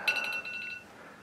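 A phone rings from across the room, a short electronic ringtone with a warbling, repeating tone. It is moderately faint and fades within about a second over low background noise.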